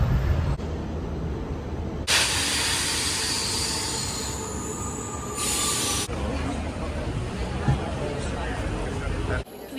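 A Rome metro train rumbles continuously up close, with wheels squealing and screeching in bursts and bright metallic tones over the rolling noise, while faint crowd chatter sits underneath.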